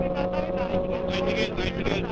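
A steady motorcycle trike engine drones nearby with a constant tone, its rumble rising slightly as it passes, while people talk over it.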